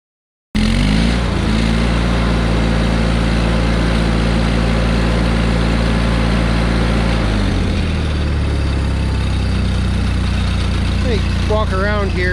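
A John Deere 318 lawn tractor engine, blowing a little smoke, runs loud and close in a steady drone, and its pitch and tone shift partway through as the revs change.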